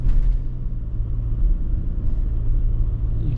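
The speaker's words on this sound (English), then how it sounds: "You can easily hear when the gas engine kicks on." A Toyota Sienna hybrid minivan's gas engine kicks on, a low, steady rumble with a slight edge heard from inside the cabin, fairly loud and continuous.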